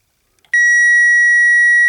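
A circuit tester probing a relay for power lets out one steady, loud electronic beep, starting after a couple of faint clicks and holding unbroken to the end.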